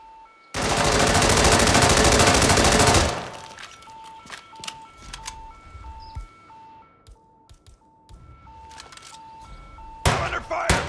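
Loud sustained burst of automatic gunfire in the video game Hitman 3 opens the scene, followed by scattered shots, thuds and repeating electronic beeps, with a final cluster of sharp impacts near the end.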